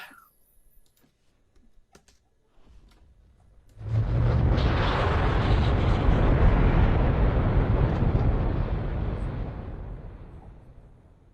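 Radio drama effect of a rocket's second stage firing: after a few faint clicks comes a sudden loud, broad roar that holds steady for several seconds and then slowly fades, with no talking over it.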